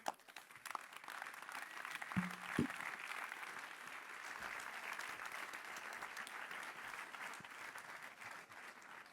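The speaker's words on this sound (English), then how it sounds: "Your applause again." An audience applauds after a speech, a sustained, fairly distant roll of many hands clapping that holds steady throughout, with a couple of sharp thumps early on.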